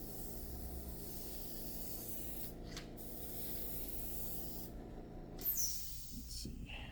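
A steady, close hiss of a spray gun applying kandy paint to a Mooneyes moon disc hubcap runs continuously for several seconds, with a brief rustle near the end.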